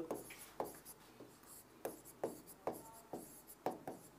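Pen writing on a board or page during a Hindi grammar lesson, a run of short scratchy strokes repeating roughly every half second, close and fairly quiet, with no talking.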